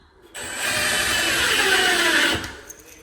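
A power drill drives a screw during a tub and shower valve replacement, one steady whirring burst of about two seconds, close and fairly loud, then stopping.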